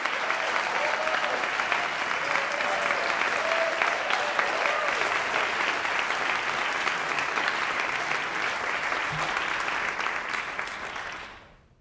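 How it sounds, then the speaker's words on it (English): An audience at a Lyric Opera of Chicago panel event claps steadily for about eleven seconds, a dense and even wash of applause that fades out at the end. "Can we welcome him out now with applause?"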